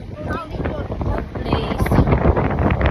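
Strong gusts buffet the microphone outdoors in a rough, rumbling roar that swells louder toward the end, with people talking underneath.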